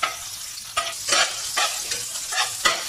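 Garlic and onions frying in a pan for Filipino-style spaghetti sauce, with a steady sizzle broken by several loud, close scraping stirs that come in uneven bursts.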